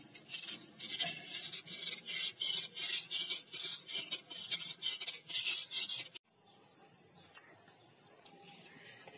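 Coconut is grated by hand for a village-style greens dish, a rapid run of rhythmic, scratchy rasping strokes close by that stops abruptly partway, leaving quieter kitchen background.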